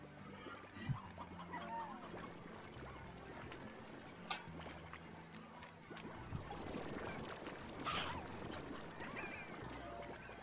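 Chickens in the Slime Rancher video game cluck softly and intermittently over a quiet ambient game soundscape, with occasional small mechanical clicks and no speech.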